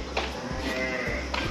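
Goats on a farm abroad bleat a few times at moderate distance, wavering calls repeating over a steady low background hum, with no clear talking.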